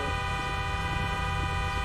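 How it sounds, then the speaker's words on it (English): Car horn honking inside GTA 5 roleplay, a steady sustained blare with a low engine rumble beneath, loud and continuous throughout. "Yeah, why am I hearing a horn?"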